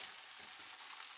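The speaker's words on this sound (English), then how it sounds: "Fry Mabo tofu well." Mapo tofu frying in a pan, a close, steady, hissing sizzle with no voices.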